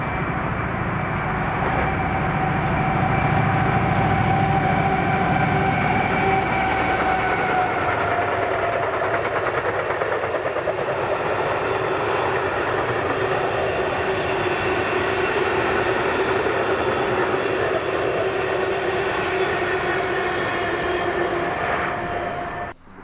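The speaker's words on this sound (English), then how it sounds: "On this day 7817 and a rake of loaded JNAs, passing here at Blindwells" Locomotive 7817 hauling a rake of loaded JNA wagons rumbles steadily past at Blindwells, a loud, continuous roar with a sustained engine drone and wagon clatter lasting over twenty seconds before cutting off abruptly.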